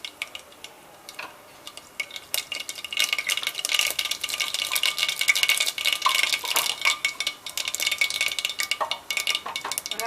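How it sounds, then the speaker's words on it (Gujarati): Mustard seeds spluttering and popping in hot oil in a pressure cooker for a vegetable tempering, a dense crackle of sharp ticks that builds after the first seconds and stays steady throughout, close and fairly loud, no voices. "રાઈ તતડી જાય પછી જીરું એડ કરી દઈશું"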